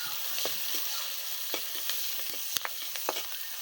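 Chillies and chopped garlic fry in oil in a pan over a village clay stove, giving a steady close sizzle broken by a few sharp clicks and scrapes from stirring.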